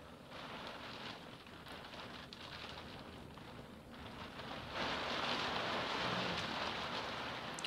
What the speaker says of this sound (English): I don't know if you can hear the rain outside the studio.